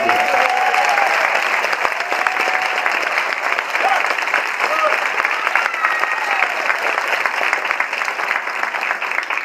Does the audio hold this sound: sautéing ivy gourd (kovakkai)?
no